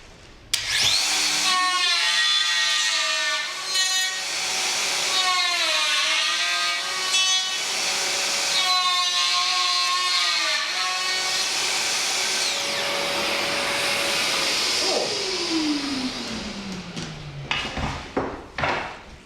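Festool VS 600 jointing system routing the second side of a wooden workpiece, a loud, close router whine rising and falling in pitch through repeated passes, then winding down with a falling tone and a few clatters.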